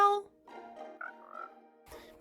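A Minecraft frog croaks in a short sequence of soft, tonal blurps, quiet and close, ending with a brief rustle.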